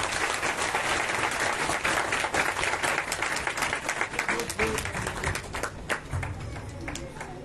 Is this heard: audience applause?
yes